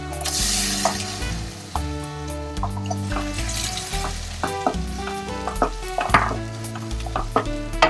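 Cooked whole masoor lentils tipped into a sizzling onion-masala gravy for dhaba-style akkha masoor, a loud wet sizzle broken by scraping stirs and clattering pan knocks, with no one talking.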